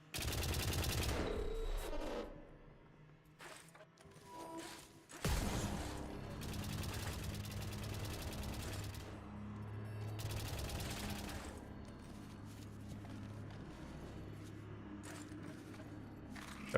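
Turret gunfire in the White Knuckle video game, loud dense bursts of rapid shots that drop briefly, then return as a sustained mechanical rattle over a low hum.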